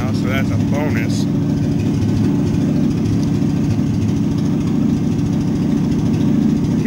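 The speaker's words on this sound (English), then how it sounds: "I just turned the idle up on the carburetor. So it's idling kind of high." A Ford F100 pickup engine idles high after a carburetor idle adjustment, giving a loud, steady, continuous rumble close by throughout, with a few brief spoken words early on.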